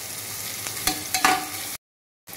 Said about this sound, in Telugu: ఆనియన్స్ మనకు బ్రౌన్ కలర్ అవ్వాలి. ఇలా బాగా మిక్స్ చేసుకోండి.